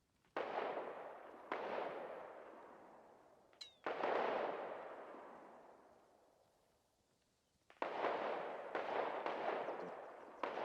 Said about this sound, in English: I heard some explosions